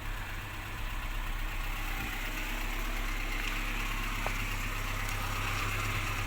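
A car engine idles steadily at close range, a continuous low rumble with an even mechanical hum and no talking; the engine is not quiet, with a somewhat worn camshaft.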